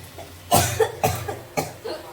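A person coughs three times in close succession, each a sharp, near, fairly loud burst about half a second apart, while chicken curry cooks in the background.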